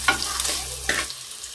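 Chopped onion hitting hot coconut oil with mustard seeds in a pan while cooking a taro stem curry, giving a soft hissing sizzle with a couple of quick stirring scrapes, close and fairly quiet.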